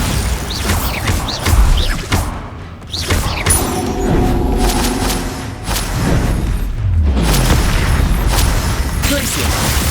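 A Bombarda spell explodes during combat in Hogwarts Legacy with a heavy boom. Thuds, creaks and mechanical clatter follow, and loud layered effects continue around it.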